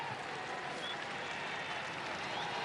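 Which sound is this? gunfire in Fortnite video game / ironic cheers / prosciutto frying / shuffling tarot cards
ironic cheers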